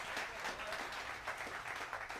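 An audience applauds as a performer comes onto the stage at a Boss Loop Station competition final, a steady wash of clapping from many hands at a moderate distance, fairly quiet and sustained.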